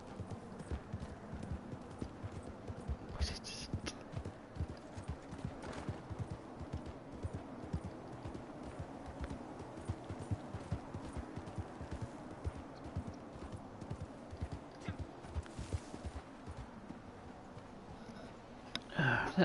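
Horse hooves clip-clop steadily in the Red Dead Online game, a quiet, even trot of repeated soft hoof strikes running for the whole span with a brief louder burst near the end.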